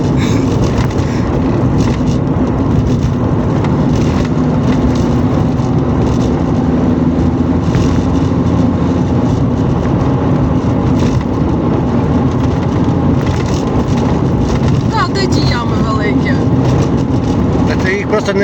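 A car labours in third gear, its engine droning steadily with a strained low rumble throughout, loud and close, while people talk faintly over it.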